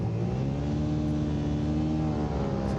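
A Suzuki SV650 twin-cylinder race motorcycle revs loudly and steadily on the grid at the start of a WERA Lightweight Twins Superbike race at Road Atlanta, its engine drone sustained and close.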